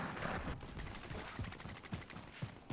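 Players trade gunfire in the video game Warzone, with rapid, fairly faint bursts of shots in quick succession that sound somewhat distant over a noisy background.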